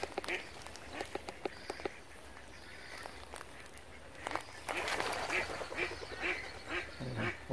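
Pacific black ducks quack on the water of a lake where egrets breed. The calls come in intermittent bursts, with a denser run of quacks toward the end over outdoor ambience.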